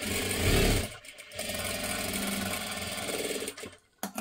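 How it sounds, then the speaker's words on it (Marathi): A sewing machine runs in quick continuous bursts while stitching a katori blouse, a close whirring motor and needle rattle that stops briefly and restarts, with no talking. "शिलाई मारून घ्यायची"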